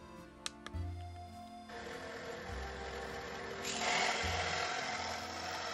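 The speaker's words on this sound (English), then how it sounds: "I'm just grinding a radius onto top end of the spars" A linisher belt sander grinds a radius onto the top end of steel spars for a garden brazier, giving a steady, close abrasive rasp that swells louder partway through, with a few sharp ticks near the start.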